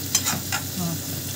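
Chopped onion fries in a pan with a steady close sizzle, joined by a few soft stirring scrapes in the first half-second.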